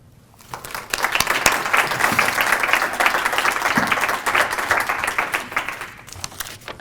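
A lecture audience gives steady applause welcoming the speaker Mark Griep, the clapping rising quickly, holding dense and even for several seconds, then tapering off.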